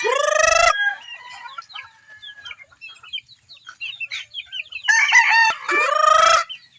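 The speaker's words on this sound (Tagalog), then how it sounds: "Yung ating mga alagang manok." A rooster crows loudly and close by, then hens cluck softly in a scattered way, and a second long crow rings out near the end.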